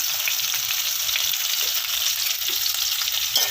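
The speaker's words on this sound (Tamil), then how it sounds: "நல்லா எல்லாம் நல்லா வதங்கட்டும்" Onions sautéing for chicken sukka, a loud dense crackling sizzle filling the clip with faint stirring touches and a brief scrape near the end.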